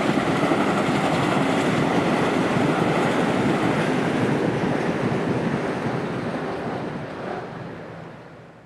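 An electric passenger train on the Hudson Line rushes past in a loud, steady roar of wheels and air, with wind buffeting the microphone, then slowly fades as it moves away toward the end.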